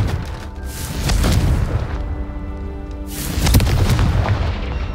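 Fire-spell blasts go off in the Hogwarts Legacy video game, two loud, deep booming explosions about two seconds apart, each with a crackling burst and rumbling tail, close and alone.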